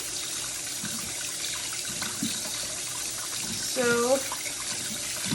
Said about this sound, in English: I'm going to rinse them really good with cold water first.